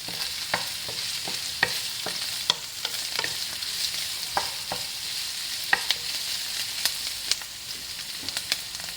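Ground pork frying in a pan with garlic and onion gives a steady, close sizzle, broken by repeated sharp scrapes and clinks of a spatula stirring at an irregular pace throughout.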